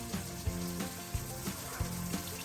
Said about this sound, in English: Let's just drain the antifreeze out of it